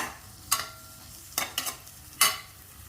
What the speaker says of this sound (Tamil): சிம்மில் வச்சு மொறு மொறுன்னு ஆனவுடனே நல்லா திருப்பி விட்டுற வேண்டியது